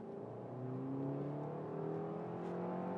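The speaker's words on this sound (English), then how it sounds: "the power is so well laid out in this car that when you need it, it just zips off like this" A Suzuki Ignis car accelerates, its engine note climbing steadily in pitch as it revs, heard from close by as a smooth, continuous drone with no talking.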